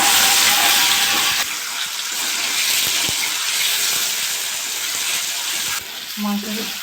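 Chicken fries in hot mustard oil in a pan with a loud, continuous sizzling hiss close up, easing slightly after the first second or so and then holding steady.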